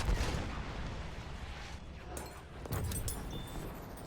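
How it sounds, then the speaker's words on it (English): Rifle gunfire in Battlefield 1 on the Oil of Empires operation, heard as distant muffled shots and rumbling booms over a steady battlefield background, with a couple of sharper cracks late on. "So I'm gonna shoot up towards this hill."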